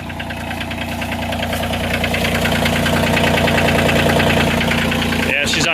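A Kioti 2610 compact tractor's diesel engine idles steadily as it warms up, a close, continuous knocking rumble with even vibration that holds for several seconds before a brief drop near the end.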